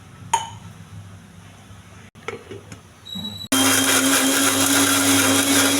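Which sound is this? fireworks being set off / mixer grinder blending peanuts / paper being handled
mixer grinder blending peanuts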